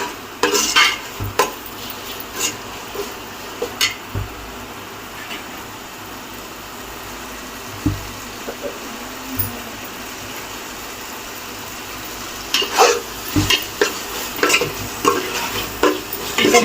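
Chicken biryani masala with ginger paste frying in a pot, a low steady sizzle under repeated close scraping and clinking strokes of a ladle as it is stirred, busiest at the start and end.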